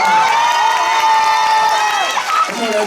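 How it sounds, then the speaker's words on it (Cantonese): An audience at a school show cheers loudly, with a long sustained shout ringing over crowd noise that breaks into shorter calls near the end. "黎真同學，Ronnie， 俾掌聲"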